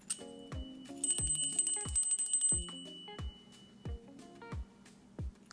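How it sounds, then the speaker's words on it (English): A small bell is rung repeatedly, bright metallic dings in an uneven rhythm, each ring decaying quickly, close and moderately loud with no talking. "I just had the urge to ring the bell."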